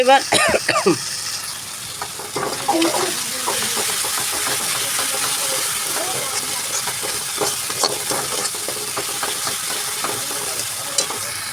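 Turmeric and chili powder fry in a pan for prawn malai curry with a steady broad sizzle, broken by repeated scraping stirs and brief clatters, close and fairly loud.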